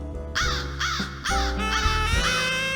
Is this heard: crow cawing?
yes